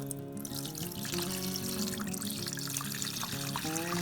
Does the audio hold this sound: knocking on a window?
no